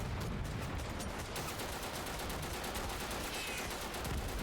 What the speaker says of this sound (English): That was an RPG.